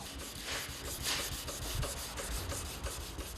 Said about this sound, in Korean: 작업 시작부터 끝까지 수만 번 반복하는 사포질.